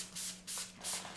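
Several soft hissing bursts of a spray bottle misting in an office, fairly close and quiet, repeated at an uneven rhythm.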